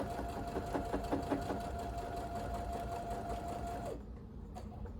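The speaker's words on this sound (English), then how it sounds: "I'm gonna go ahead and chain sew these." A sewing machine runs continuously while chain sewing quilt seams, a close, steady mechanical whir with rapid needle rhythm and a faint whine that stops after about four seconds, leaving quiet room noise.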